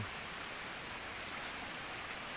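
A river stream flows steadily along a rural trail, a constant broadband rush of water with no breaks, moderately distant and without voices.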